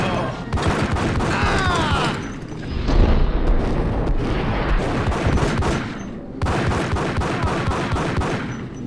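Rapid bursts of gunfire in the Max Payne shooter, loud crackling volleys and booms, pausing briefly in the middle before another flurry of shots, with faint voices underneath.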